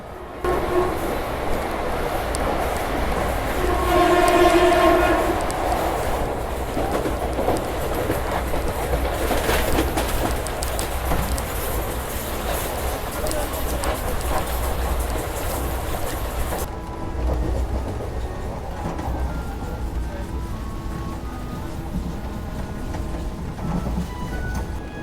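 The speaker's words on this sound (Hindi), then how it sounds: "तो बहुत रुक रुक के चलने वाली है ट्रेन।" A slow passenger train between Mumbai and Ahmedabad rumbles along steadily, with continuous wheel and carriage noise, a brief louder stretch of tonal squeal early on, then a quieter, smoother run as it eases toward a station.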